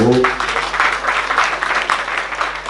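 A church congregation applauds at the close of a prayer in a Portuguese-language service, a short burst of many hands clapping fairly loudly, with a brief voice at the very start.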